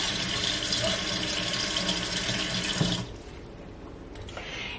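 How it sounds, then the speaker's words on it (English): Water poured into a centerpiece filled with water beads, a steady splashing stream that stops abruptly partway through, leaving faint drips and quiet room sound. "you need to be very careful once you start pouring the water in"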